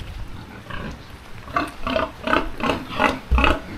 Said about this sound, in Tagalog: Kaso may mga baboy. Maingay. Maingay sa video.